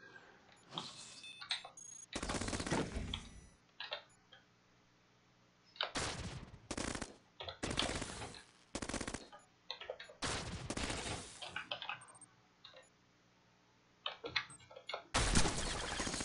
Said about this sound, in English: now we can fire all our weapons at this guy. Alright. Proton cannon.